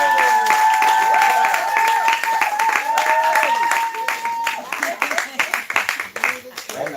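Women's Day celebration crowd applauding with loud, dense clapping over raised voices and cheering, thinning into scattered, uneven claps toward the end.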